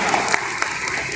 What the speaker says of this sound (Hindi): उन तमाम वालिदैन के लिए एक बार जोरदार तालियां होंगी